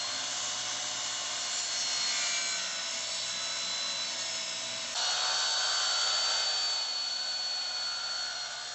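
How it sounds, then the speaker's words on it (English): An oscillating multi-tool buzzes continuously and close while cutting out a rotted wooden deck sill on a mobile home, a steady high whine that shifts slightly in pitch midway, with no speech. "first time on the oscillating multi-tool"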